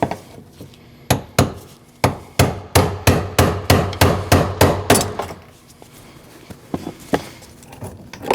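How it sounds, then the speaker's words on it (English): A rapid run of sharp metallic hammer-and-punch taps on a fuel pump lock ring of a Jeep Cherokee, about a dozen evenly spaced strikes, then a pause and a few scattered clinks; close and fairly loud. "Take your punch, your hammer, counterclockwise, and take your ring off"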